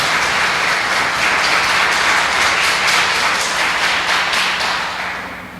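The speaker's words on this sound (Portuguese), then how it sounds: "E aplauda o Senhor Jesus bem forte." Church congregation clapping hard for the Lord Jesus at a Portuguese-language service, a long, steady, vigorous burst of many hands that fades out over the final second.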